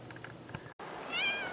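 A cat meows once from fairly close in a snowed-in off-grid homestead, a short rising-and-falling call after a brief quiet gap and some low indoor rumble.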